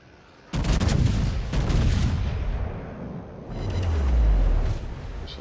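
Battleship gunfire in a naval battle game, a few heavy booming salvos with sharp onsets and long rolling decays, the last followed by a deep low rumble.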